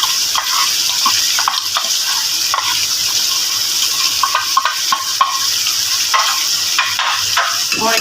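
Chicken biryani masala with dry coriander, garam masala and biryani powder frying in a pot, a loud, close, crackling sizzle broken by repeated stirring scrapes.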